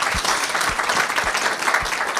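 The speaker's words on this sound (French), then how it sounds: "Merci pour l'applaudissement, effectivement." Audience applauding at an energy and sustainable-development forum session, a dense steady wash of clapping throughout with a few low thumps underneath.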